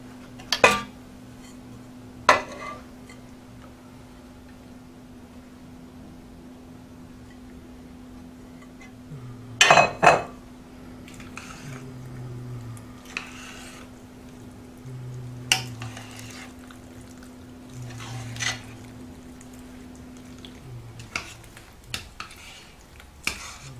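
A spoon knocks and scrapes in a pot as lobster macaroni and cheese is mixed, with a dozen or so sharp clinks scattered over a faint steady hum.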